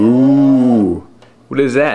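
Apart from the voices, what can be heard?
cow mooing, toy animal sound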